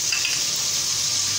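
Ginger and garlic sizzle steadily in hot oil in a home kitchen pan as ground spices go in for a chana dal and meat curry, a close, continuous frying hiss with no voices.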